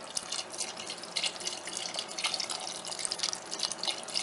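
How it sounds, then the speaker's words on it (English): Chicken stock is poured into a soup pot of cabbage for a country-style hamburger and vegetable soup, a close, steady splashing trickle with bright drips throughout. "Now we're going to pour in a little bit more chicken stock, just so we cover up the cabbage."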